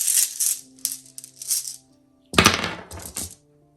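Handfuls of small runes are dropped onto a hard surface, giving several bursts of clicking, clattering rattles close up with short pauses between, ending in one louder scattered clatter that quickly settles.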